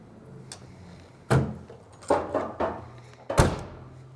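The small fuel filler door on a 1955 Ford Thunderbird is handled and shut, giving a few sharp close thunks and clicks spaced over a few seconds in a quiet setting.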